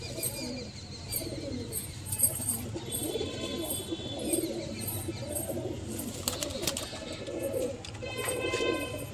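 Male breeder pigeons in a pigeon loft coo softly and repeatedly, with low rounded calls overlapping alongside faint wing flutters and occasional chirps.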